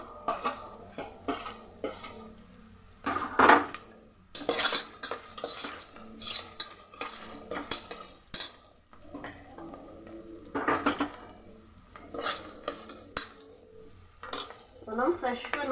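Curry leaves hit a hot pan and crackle as a spoon stirs them, with repeated metallic scrapes and clinks against the cookware over a continuous sizzle and brief quiet gaps between stirring bursts.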